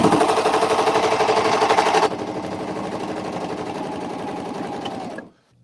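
A Janome CoverPro coverstitch sewing machine stitches a seam with a fast, steady mechanical whir, loud and close, dropping to a slightly lower, quieter running pace partway through before stopping near the end.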